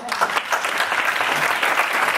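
An audience at an event at the Paul Pyronnet institute applauds guitarist Loïc as he is introduced, producing dense, continuous clapping with a few louder claps near the front.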